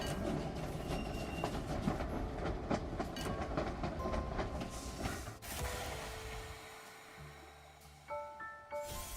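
A train in the video game Infinity Nikki runs fast along its rails through narrow passages, giving a steady rolling clatter with metallic rattles that thins out near the end, where brighter chime-like tones appear.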